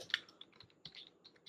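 Keystrokes on a computer keyboard while coding a Node.js REST API, a quiet, irregular run of light clicks and taps, alone with no voice.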